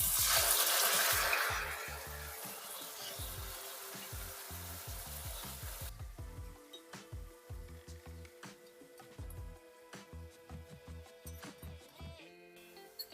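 Tomato and chilli paste for momos chutney sizzles loudly in a pan, an intense hiss at first that settles into steady frying with rhythmic stirring and scraping.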